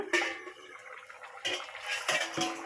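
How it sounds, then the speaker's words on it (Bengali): A metal lid clinks and scrapes onto a pot of rui fish head curry cooked with mankochu, a few sharp, close clatters of metal against metal with a faint simmer beneath. "এবারে ঢাকা দিয়ে দিলাম"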